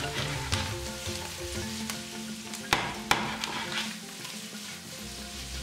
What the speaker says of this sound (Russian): И лук, и чеснок надо обжарить до полупрозрачности.